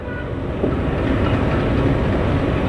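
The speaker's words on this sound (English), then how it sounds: "Departing from Samalkot Junction after the scheduled halt," Circar Express train pulling out of Samalkot Junction after a halt, with a steady loud rumble and rolling clatter of carriages on the track throughout.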